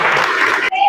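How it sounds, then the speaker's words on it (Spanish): An audience applauds at a gathering, a burst of dense clapping that ends abruptly as a voice takes over. "Un aplauso para él."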